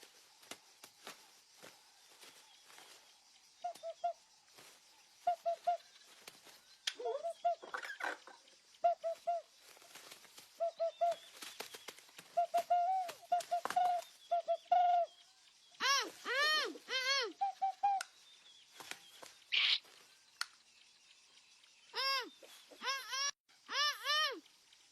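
A person imitating bird calls: repeated whistled hoots and chirps, first short steady notes, then louder warbling, sliding trills toward the end, with rustling footsteps and scattered knocks between them.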